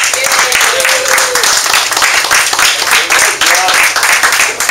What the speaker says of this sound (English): why don't we give a nice hand clap to Jeff Nott